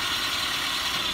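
A 2017 Toyota Tacoma four-wheel-drive pickup with a 2.7 litre gas engine runs steadily at idle, a close, continuous, even hum and whir with no break.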